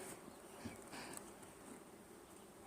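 A hum of honeybees swarming around an opened hive, a continuous dense buzz at moderate distance with faint rustling and a few brief bumps.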